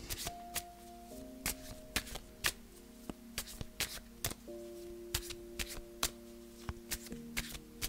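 Tarot cards are shuffled by hand in quick, crisp riffling clicks that repeat steadily over soft, sustained background music.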